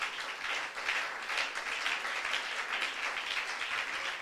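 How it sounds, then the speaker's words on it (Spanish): A church congregation claps during a service, producing a steady, even wash of applause that sounds somewhat distant and soft throughout. "Aplaude la presencia de Dios."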